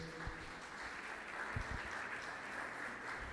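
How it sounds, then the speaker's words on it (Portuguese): Faint, distant clapping from a church congregation rolls on steadily, a soft even patter with a few low knocks near the middle. "Aplauda o Senhor Jesus, igreja."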